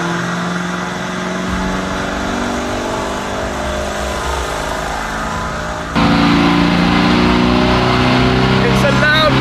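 A Lamborghini Urus in limp mode on a dyno during a stock run, its engine loud and near, holding a steady droning pitch then jumping louder as revs climb, with a voice talking over it.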